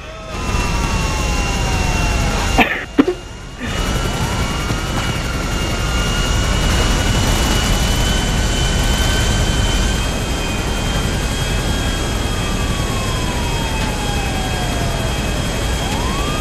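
Airplane engine in GTA roaring steadily and loudly through a takeoff, with sweeping tonal whines rising and falling over a broad rumble, broken by a brief sharp dropout and thump early on.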